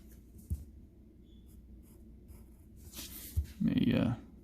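A pencil sketches an isometric drawing on paper: soft, faint scratching strokes, then a louder, denser burst of rubbing near the end.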